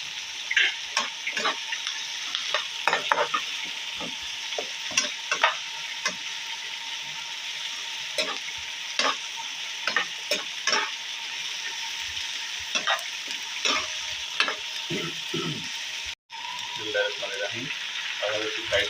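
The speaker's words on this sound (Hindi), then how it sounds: "3 से 4 मिनट एक साइड को आपने इसे फ्राई करना है" A whole chicken for Lahori chargha fries in oil. A continuous bubbling sizzle carries sharp pops and spatters throughout, with one brief dropout late on.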